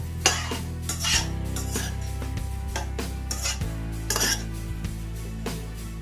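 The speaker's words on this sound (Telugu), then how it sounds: "మసాలాను మిల్లిమేకర్లకు పట్టేలాగా బాగా కలుపుకోవాలి" Masala being mixed into soya chunks (meal maker) in a pot for a curry, with repeated metallic spoon scrapes and clinks against the pot over a steady low hum.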